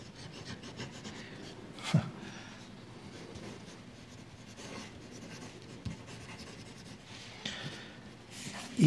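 A Kaweco Premium fountain pen with a fine nib scratches across paper in a continuous soft rasp, with a few sharper strokes and small bumps close to the microphone.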